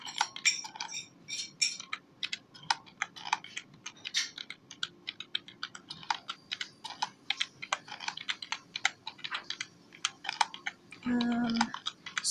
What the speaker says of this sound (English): I'm trying to type in the chat as well.